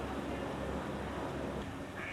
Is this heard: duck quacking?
yes